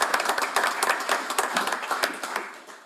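A small council meeting audience applauds, scattered close hand claps forming brief irregular applause that tapers off over a few seconds.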